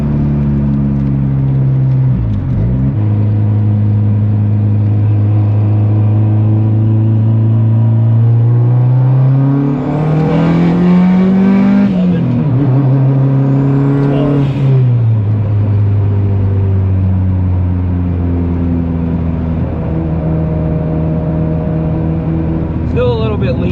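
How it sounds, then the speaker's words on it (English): A cheap Honda Civic build with a bigger turbo, its engine revving up and down while a steady low drone rises, falls and rises again. Loud and close throughout, with the turbo whirring over the engine note. "The turbo sounds amazing."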